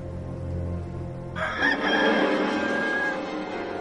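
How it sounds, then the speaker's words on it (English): A rooster crows once, loud and drawn out, its strained call starting partway through after a stretch of low background murmur. "And at once, a rooster crowed."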